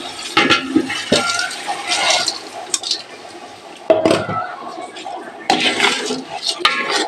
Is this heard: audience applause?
no